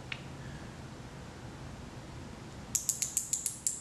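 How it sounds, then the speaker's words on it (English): Micrometer ratchet being turned to measure a calibration block machined on a Pocket NC, a quick run of about seven small sharp clicks near the end of an otherwise quiet stretch. "I've got my micrometer here"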